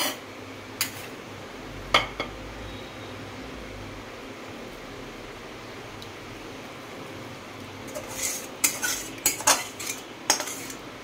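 Egg posto is spooned from a pan into a serving dish, with sharp metal clinks of a spoon at a few moments and a cluster of quick scraping knocks near the end over a low fan-like background hum.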